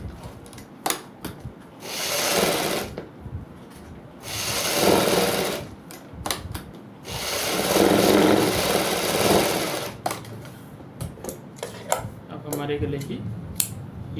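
A sewing machine stitches along three sides of a folded Angrakha suit piece, running in several bursts of a few seconds each, separated by pauses with small clicks and handling noises.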